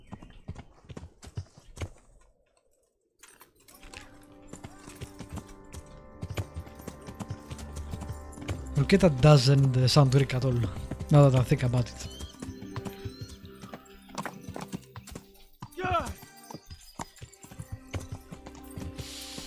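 Horse hooves clip-clopping and a whinny from the video game Kingdom Come: Deliverance, intermittent hoofbeats and a louder burst of movement midway, heard under someone talking throughout.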